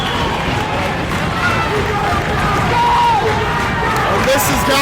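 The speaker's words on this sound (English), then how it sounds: "And this has got the crowd erupting." A wrestling crowd roars loudly at a 182 lb match in the Metro Classic 2022 tournament, a dense sustained wall of cheering and babble filling the venue, with a commentator talking over it.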